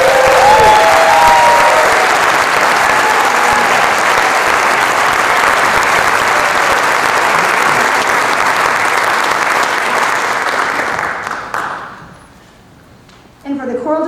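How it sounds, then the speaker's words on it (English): Loud, sustained audience applause at a high school music awards ceremony, dense clapping with light cheering that holds for around eleven seconds, then fades to near silence before a brief resumption. "Let's give them a round of applause."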